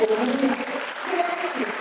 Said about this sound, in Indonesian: Hadirin mohon berikan tepuk tangannya